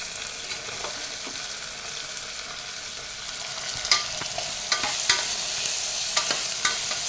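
Onions frying in a pan with a ginger, garlic, curry leaf and coriander paste for a rice dish, a constant close sizzle with irregular stirring clicks and scrapes growing busier toward the end.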